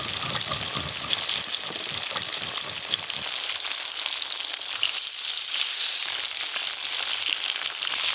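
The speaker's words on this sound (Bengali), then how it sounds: "একদম হালকা করে ইলিশ মাছগুলো ভেজে নেব।" Hilsa fish pieces sizzle and crackle in hot oil, a loud, steady frying hiss with bubbling, heard close up without talk.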